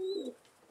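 A single soft, low tumbler pigeon coo, close and brief, followed by quiet stillness.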